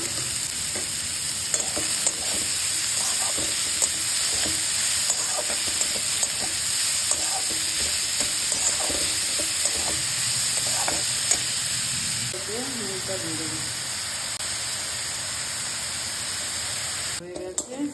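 Chopped garlic frying in a little oil in a wok, a steady close sizzle with repeated scraping stirs; a voice talks briefly over it near the end.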